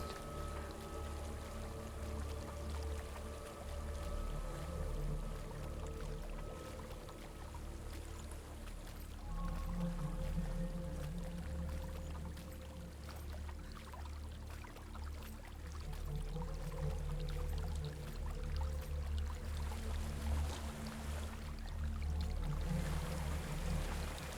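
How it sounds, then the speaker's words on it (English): Waterfall in Hellblade: Senua's Sacrifice, a steady, continuous rushing roar of falling water that holds at an even level throughout with no pauses. "There's a waterfall."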